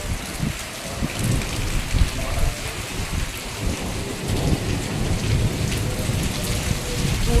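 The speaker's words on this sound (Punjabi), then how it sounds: "ਬਾਹਰ ਕੁਝ ਇਸ ਤਰ੍ਹਾਂ ਦਾ ਮੌਸਮ ਆ ਹਵਾ ਵੀ ਤੇਜ਼ ਚੱਲ ਰਹੀ ਹੈ ਬਾਰਿਸ਼ ਵੀ" Heavy rain pouring steadily onto surfaces, with low rumbling gusts underneath, loud and continuous without any voices.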